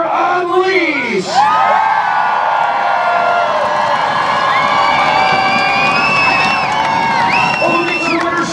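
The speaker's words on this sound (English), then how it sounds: "that means it will come down to a cheer off. The crowd will decide." Crowd at a Lake Erie monster truck show cheering in a cheer off, a loud sustained roar of yelling, whoops and shrill screams from many people throughout, spread wide and continuous.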